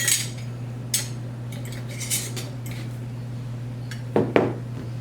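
A spoon stirs breadcrumbs into a ground beef meatball mixture in a bowl, giving a few light clinks and scrapes against the bowl over a steady low electrical hum, ending with a quick double knock.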